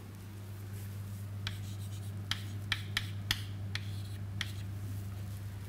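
A pen scratches out an equation by hand in a physics lecture, a few crisp strokes and taps over a steady low mains hum, quiet and close, with no voices.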